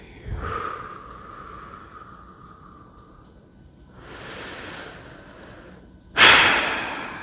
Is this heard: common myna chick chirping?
no